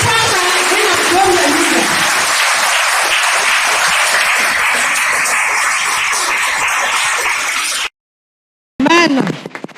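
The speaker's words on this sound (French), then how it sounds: "Acclame pour la parole de Dieu." A church congregation applauding during a deliverance service: loud, dense clapping from a large crowd that fills the room for several seconds, with voices mixed in, then a sudden cut to silence before a speaking voice briefly returns.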